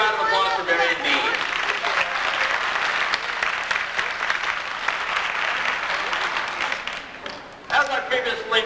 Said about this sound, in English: How about a great big round of applause for Barry and Dean?